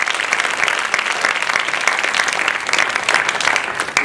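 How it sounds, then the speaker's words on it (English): A large audience applauds loudly and continuously for a young organizing team at a 2012 speaking event, dense, close clapping that stays full and even without fading. "I think they deserve another round of applause"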